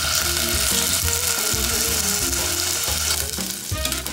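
Chicken breast sears in a hot pan, giving off a loud, steady sizzle that holds throughout with no one talking.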